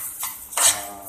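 Utensils scrape and clink against a pan while pasta is stirred with parmesan cheese, two short metallic clatters standing out in a quiet kitchen.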